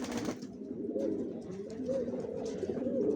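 Racer pigeons coo softly and continuously inside their loft. The low, rolling calls overlap in a gentle, steady murmur, with no voices present.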